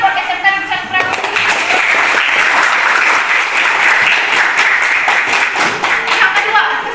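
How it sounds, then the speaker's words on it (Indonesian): A crowd of students claps for SMK Negeri 1 Prabumulih at a Youth Pledge Day school celebration, with dense, loud applause and cheering carrying on steadily throughout. "Tepuk tangan dulu dong buat SMK Negeri 1 Prabu Muli."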